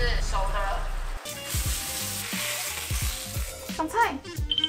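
Store-bought Costco shui jian bao buns pan-fry in a pan with water, a soft steady sizzle and crackle under someone talking, with a few clinks near the end.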